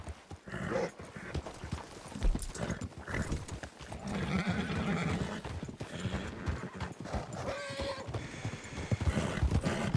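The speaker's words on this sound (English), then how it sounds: "The horses all running around, all spooked" Spooked horses in Red Dead Redemption 2 gallop about with busy clip-clopping hooves and repeated whinnies. The sound is fairly faint and continuous across the scene.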